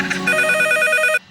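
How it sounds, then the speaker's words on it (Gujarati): A telephone rings with a steady electronic trill for about a second, loud and close, with no talk over it, then cuts off. "ફોન આવ્યો કાકા."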